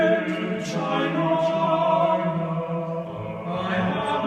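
A choir sings sustained harmonies in a spacious room, recorded with a spaced pair of omni microphones, with a warm, full low end and a soft, roomy blend.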